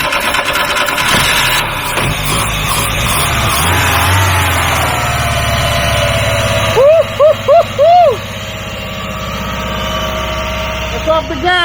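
An old truck engine runs at a steady, rough idle throughout, close and loud, with a few brief squealing chirps near the end and excited voices faintly around it.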